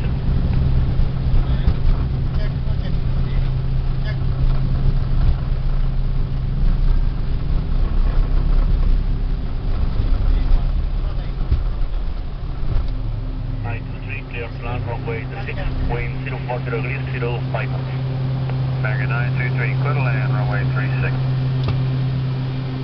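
A Dornier 328 turboprop's engines drone loud and steady through a night takeoff roll at Medellín Rionegro, heard from the cockpit, while radio voices talk over the noise.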